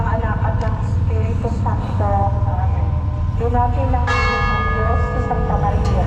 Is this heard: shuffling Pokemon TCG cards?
no